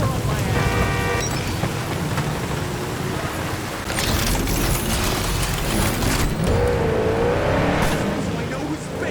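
In-game car driving in Cyberpunk 2077 Phantom Liberty, with an engine revving and surging at close range, bumps and mechanical clatter, and a voice talking over the driving noise.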